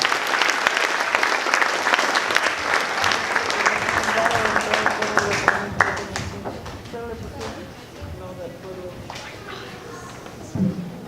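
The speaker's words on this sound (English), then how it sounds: "Give another round of applause." Audience applause at a karate show: loud, dense clapping from a crowd that thins out after about six seconds into scattered claps, with voices talking underneath as it dies down.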